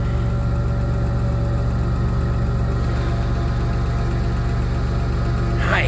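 A 1997 Dodge Caravan LE minivan engine idles close by, a loud steady low rumble with a rhythmic pulse that holds evenly throughout, no voices.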